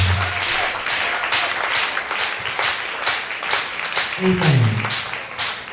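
A church congregation applauds in dense, sustained clapping through the whole stretch, with a voice speaking over the crowd and a short vocal rise near the end.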